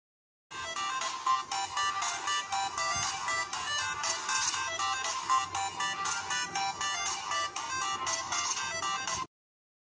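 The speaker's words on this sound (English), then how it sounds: "I have even tried to call on the phone, but as you can see, this is ringing but no signs from the screen." A Razer Phone 2 with a black-screen fault rings from an incoming call, playing a steady electronic ringtone melody of repeated bright notes for about nine seconds before cutting off, heard alone.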